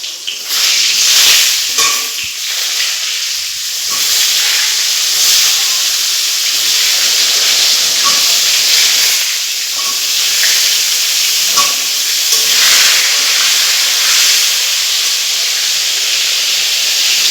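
Salted pointed gourd (potol) frying in hot oil for a Bengali doi potol dish with prawns, a loud steady sizzle and hiss close to the pan, with slight swells as the pieces cook, no talk.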